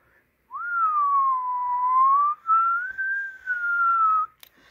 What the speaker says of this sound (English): Let's give it a whistle.